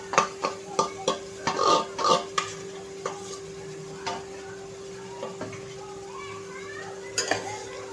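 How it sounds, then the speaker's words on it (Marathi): Ground masala paste for a Maharashtrian prawn curry hits hot oil and is stirred in a pan, a run of rhythmic scraping and clinking strokes over a soft sizzle, busier at first and then thinning to sparse taps. "आता आपण हे जे वाटण केलंय हे टाकायचं आहे."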